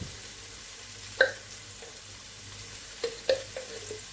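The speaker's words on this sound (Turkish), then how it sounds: "Salçasıyla da şöyle birazcık kavuracağım." Carrots stirred with tomato paste in a pan give a quiet, steady sizzle, broken by a few light scrapes and taps of a spoon against the pan.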